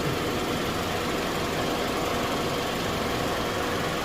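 A 2017 Kia Sportage idles with its AC compressor running during a refrigerant recharge, giving a steady, even engine drone and hum that stays close and constant throughout with no talking.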